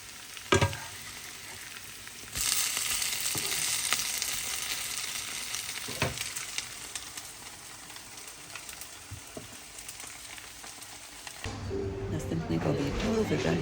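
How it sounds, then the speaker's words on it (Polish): Continuous crackling sizzle of pancake batter frying in a hot pan, with occasional scraping clicks and a brief pause near the end before sizzling resumes. "placuszki się smażą"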